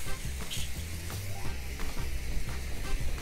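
A hot jet washer rinsing a dirty roof seen from scaffolding in North London, a steady hissing spray with a sizzling texture and a low rumbling pump underneath, continuous and close.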